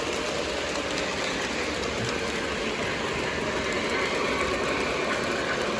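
An Atlas or MTH model train runs on Bluetooth control, giving a steady, close rolling rumble with faint clicking of wheels over track joints and no voices.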